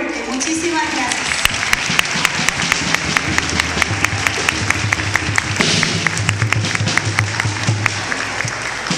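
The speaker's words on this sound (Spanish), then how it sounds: "Un aplauso muy fuerte, muchísimas gracias" An audience at a civic tribute ceremony in Alajuela gives sustained, loud applause, with dense clapping that runs unbroken from start to finish over a low background hum.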